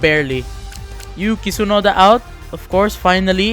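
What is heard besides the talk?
No everyday noise stands out behind the speech.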